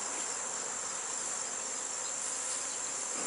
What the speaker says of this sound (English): They're kind of getting a little agitated.